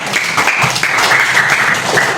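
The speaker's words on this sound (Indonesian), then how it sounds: "Tepuk tangan untuk kita semua." A classroom of students claps together during a lesson, a steady close burst of applause lasting about two seconds with a little voice mixed in.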